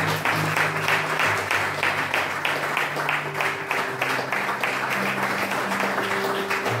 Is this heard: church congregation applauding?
yes